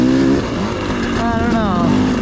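Motorcycle engine fitted with an XTNG Gen3 Pro carburetor running loud and close, a steady idle with shifting pitch as it nears flooding, with talk over it.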